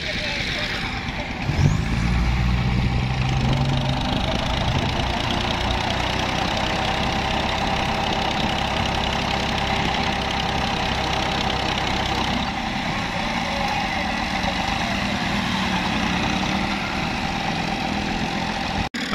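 A jeep-rally vehicle engine runs steadily close by in the Thal desert while a stuck vehicle is being re-tied for towing, a low continuous rumble with a brief rising whine near the start and people talking faintly in the background.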